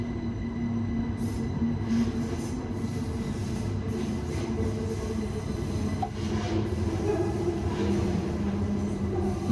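A train rolls steadily over the entry switches onto track 22, a loud continuous low rumble of wheels and running gear with faint metallic hiss above and no distinct clatter peaks.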